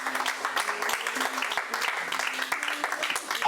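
A church congregation claps continuously, a dense steady patter of many hands, with voices calling out beneath it.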